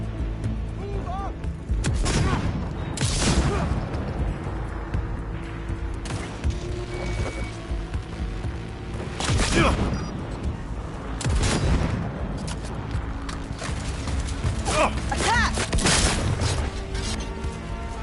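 Repeated bursts of gunfire in a Cyberpunk 2077 firefight, loud booming shots coming in clusters with short gaps, under voices shouting orders throughout.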